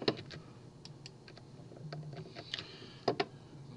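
Typing on a computer keyboard while building quiz exercises, with scattered, irregular key clicks, a few louder taps near the end, close but fairly soft, no talk.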